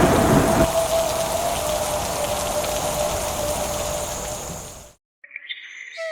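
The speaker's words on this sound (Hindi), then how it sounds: "पर हल्की हल्की बारिश की बूंदें गिर रही थी। आसमान में कभी कभी बिजली चमक जाती थी और उसके बाद दूर कहीं गरज की आवाज गूंज उठती थी।" Steady light rain patters on surfaces in a village on a cold evening, with a low rumble of distant thunder beneath it. The rain holds evenly for about five seconds before cutting off abruptly into near silence.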